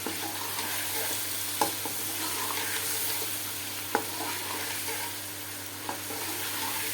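Yogurt stirred into a large pot of chicken degi biryani, a steady frying sizzle running throughout with a few sharp clinks of a spoon against the metal pot.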